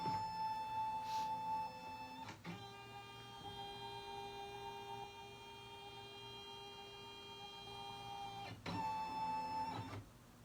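A computerized embroidery machine stitches with a steady, droning mechanical whir and a fine, even buzz. The tone shifts abruptly twice as the stitching changes speed, and no one talks.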